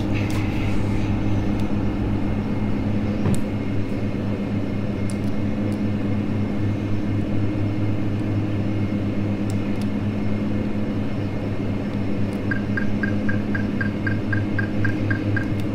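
Steady, loud turboprop drone of a Q400 airliner taking off in a flight simulator, a constant low hum with no breaks, joined near the end by a short run of repeating electronic beeps.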